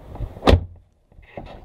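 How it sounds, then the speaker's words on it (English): A car door on a 2007 Jeep Liberty Limited slams shut once, close and sharp, followed by a brief faint rustle inside the cabin. "Go ahead and shut this door."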